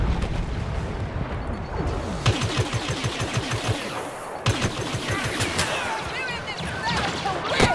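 Turret gunfire in Star Wars Battlefront, a dense rapid stream of loud blaster shots in long bursts with brief pauses and a couple of heavier impacts, close and continuous.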